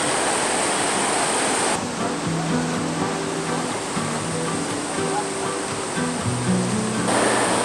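Creek water on Davidson Creek in Jirrbal Country, too deep to cross, rushes steadily and close by, a loud continuous wash with faint low tonal sounds underneath.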